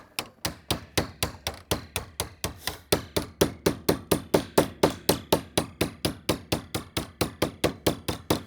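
Steady hammer blows bend metal trim back over during standing seam metal roofing preparation, about three sharp ringing strikes per second, loud and close, with no talk.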